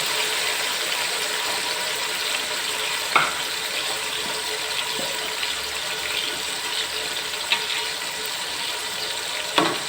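Three tomatoes frying in a pan, producing a soft, even sizzle with occasional sharp clinks or stirring knocks, close and steady without any voices.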